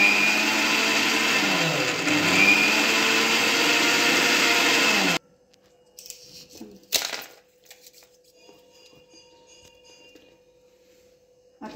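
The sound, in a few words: mixer grinder churning cream with cold water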